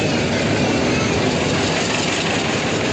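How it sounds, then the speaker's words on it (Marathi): A small train on Elephanta Island rumbles steadily nearby, a broad continuous roar of engine and rolling wheels with no pauses and no speech. "तर मित्रांनो आता आम्ही या ट्रेनमध्ये जाणार तुम्ही ते बघू शकतात."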